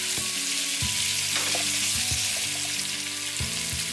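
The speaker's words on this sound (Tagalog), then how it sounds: "At habang niluluto nga itong pork, hinahalo-halo ko rin para maging pantay yung pagkakaluto ng mga sides." Pork frying over high heat in a pan, a loud continuous sizzle with periodic stirring scrapes and clatters, near and without talk.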